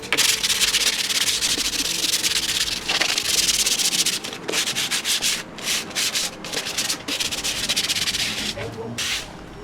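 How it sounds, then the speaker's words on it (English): Close, continuous scratchy rasping of 150 grit sandpaper roughing up a surface, with rhythmic back-and-forth strokes that break into shorter bursts toward the end. "we're gonna just kind of rough up the surface with some sandpaper"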